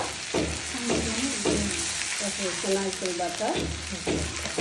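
Coconut paste fries and is stirred in a pan, steady sizzling under repeated scraping and stirring strokes, close and fairly loud, no talking.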